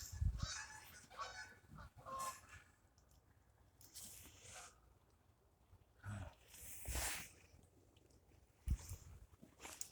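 Geese honk repeatedly in loud, ragged bursts, some close and some further off, with gaps of quieter ambience between the calls.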